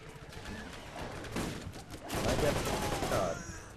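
Rapid gunfire in the Borderlands video game, dense bursts of shots rattling continuously throughout at close range.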